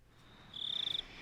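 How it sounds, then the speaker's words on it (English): Crickets chirping outdoors at night, a steady high trill that swells in a rapid pulsing burst for about half a second before fading back to a faint hiss. "I could hear the crickets."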